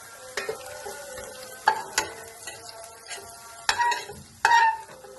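Bitter gourd pieces fry in oil over medium heat in a pan, with a steady sizzle broken by several sharp scrapes and clanks of a utensil stirring them, close up and without talk.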